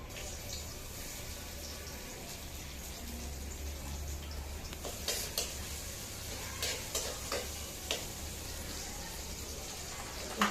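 Bottle gourd greens frying in oil in a home kitchen, a soft continuous sizzle with intermittent scraping stirs and a low background hum, quiet and close.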